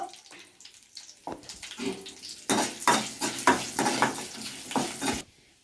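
Cumin, curry leaves, ginger pieces and turmeric fry in oil for tamarind-style flattened-rice pulihora. Quiet crackles give way to louder sizzling bursts with stirring scrapes against the pan, then stop abruptly.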